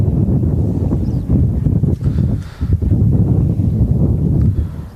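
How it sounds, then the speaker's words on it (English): Strong gusts buffet the microphone outdoors at Manchester Airport, a dense, low rumbling roar that swells and dips continuously, with only a brief lull in the middle. "I apologise if the audio is a bit blustery"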